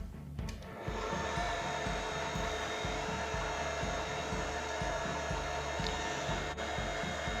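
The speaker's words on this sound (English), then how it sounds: "What I will then do is close down the mixer and start it up." Electric stand mixer running steadily while kneading naan bread dough, a loud continuous motor whir with a rhythmic churning pulse throughout, no talking.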